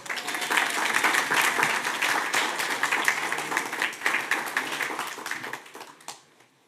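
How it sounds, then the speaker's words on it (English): A crowd applauding steadily for several seconds at a city commission meeting, dense clapping from many hands that tapers off and fades at the end. "Could we give them a round of applause, please?"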